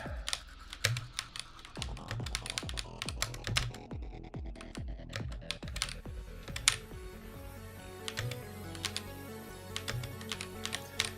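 Rapid clattering keystrokes on a computer keyboard, bursts of dense typing with brief pauses, close and fairly quiet with no talking.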